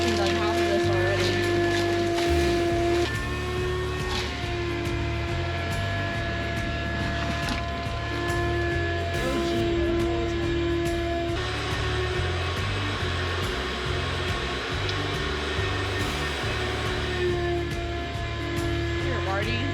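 A vacuum cleaner drones loud and steady inside a Ford Fairlane 500, sucking up debris, with occasional rattles and shifts in pitch as the nozzle moves while people talk over it.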